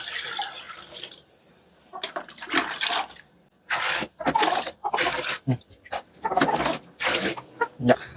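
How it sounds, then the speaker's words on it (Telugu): Hot water poured and splashed into a tub for mixing, loud bursts of gushing and sloshing broken by brief pauses, up close. "ఈ నీళ్ళు ఇందులోకి మిక్సింగ్ చేసుకుందాం."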